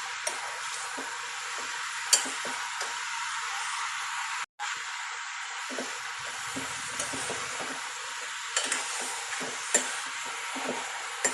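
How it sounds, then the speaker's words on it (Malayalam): A spoon stirs chicken stew with carrot, capsicum and curry leaves in a pot, making quiet scrapes and taps at irregular intervals over a constant soft sizzle. "ഇനി ഇതെല്ലാം കൂടി മിക്സ് ചെയ്യാം"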